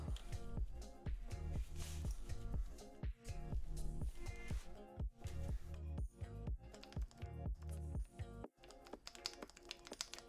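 Keystrokes on a Keycult 1/60 mechanical keyboard fitted with T1 switches, a dense run of fast, close clicks and clacks with a few brief pauses, loud and steady throughout.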